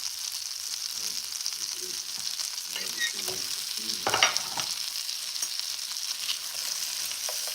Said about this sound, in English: we got our potatoes